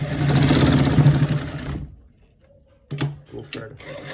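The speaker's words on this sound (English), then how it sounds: "we are stitching a straight line straight to the top part" Sewing machine stitching a straight line on a trouser double welt back pocket, running loud and steady with a buzzing whir, pausing briefly, then restarting in short bursts.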